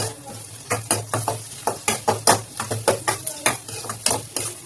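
Garlic and onion for chowmein sizzle in a pan while being stirred, with rhythmic scraping strokes of a spatula about twice a second over a constant frying hiss.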